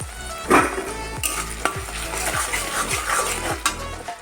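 Onion and tomato, salted, frying in oil in a pan and stirred steadily, with a spatula scraping in regular strokes over a continuous sizzle, close up and with no talking.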